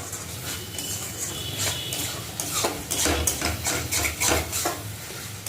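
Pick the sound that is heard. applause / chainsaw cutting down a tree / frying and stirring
frying and stirring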